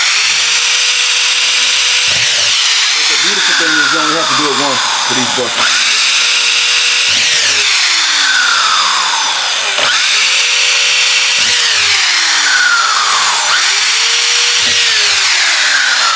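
A power drill whines loudly in repeated bursts, pitch dropping as it bites into the material, with a person talking between runs.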